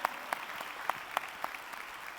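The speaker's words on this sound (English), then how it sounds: "give yourselves a round of applause for the amazing job you've done" Audience applause at a Gladiator Summit conference talk, a fairly quiet, steady patter of clapping with a few sharper individual claps standing out, lasting about two seconds.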